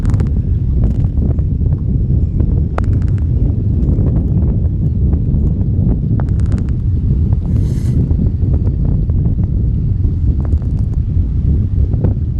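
Wind sweeps over a lake around a fishing boat, a loud constant low buffeting roar on the microphone with faint scattered knocks and clicks from the boat.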